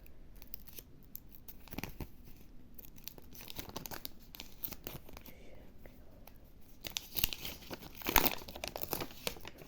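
Close, quiet crinkling and tearing of a small paper sticker packet opened with a fingernail, with scattered clicks and a slightly louder rustle near the end.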